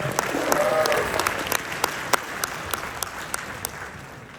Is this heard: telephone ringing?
no